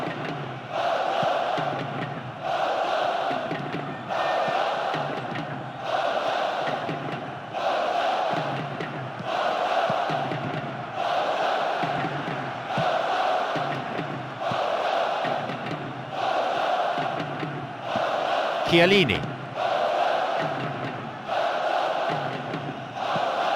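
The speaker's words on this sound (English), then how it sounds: "The rhythmic chanting of the crowd" A large football stadium crowd at the 2007/08 Champions League match between Barcelona and Juventus chants in a steady repeating rhythm, loud and sustained across the whole stretch, with a commentator's voice briefly heard.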